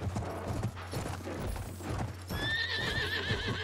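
Horses gallop across the Sinai Desert in a Battlefield 1 conquest match, hooves clip-clopping in quick rhythm with a clear whinny, set against a steady engine-like drone and gunfire-like bursts.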